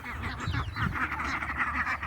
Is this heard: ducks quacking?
yes